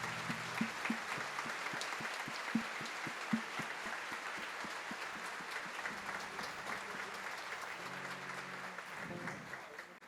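Sustained applause from a standing Catholic congregation during a novena Mass, a continuous crowd clapping with a few sharper individual claps near the start and faint background voices and tones toward the end.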